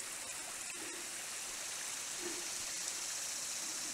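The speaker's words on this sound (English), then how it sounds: "the creek emerges from the forest there, spreads out onto this bare rock bald" A creek spreads across a bare rock bald in a Greenville County, South Carolina forest, giving a steady, soft broadband rush of flowing water at moderate distance, continuous and alone without voices.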